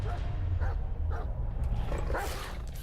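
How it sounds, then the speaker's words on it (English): A dog in a video game gives several short barks and yips over a dense, loud game soundscape, repeated in quick bursts. "Oh, it's a puppo."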